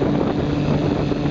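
Steady, droning 1968 Evinrude Sportwin outboard motor on a twin-hull boat running continuously with wind buffeting the microphone, loud and close with no pauses.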